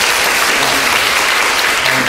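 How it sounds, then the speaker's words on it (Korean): Loud, dense applause from an audience at a Korean university admissions seminar, a continuous roar of many hands with no gaps or voices. "같이 수고해서 박수 한번 좀 주시고요"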